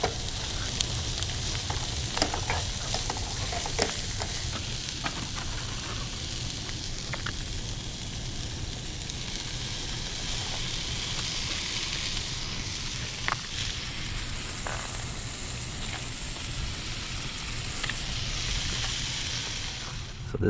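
Chopped onion and leftover bell pepper fry in a pan at a riverside campsite, giving a steady, close sizzle with occasional stirring scrapes throughout.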